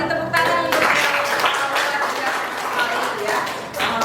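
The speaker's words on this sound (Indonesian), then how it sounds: "terima kasih, tepuk tangan untuk" A classroom of students claps together in a dense burst of applause that carries on steadily for several seconds, with voices mixed in under the clapping.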